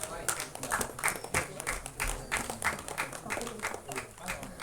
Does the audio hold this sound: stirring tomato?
no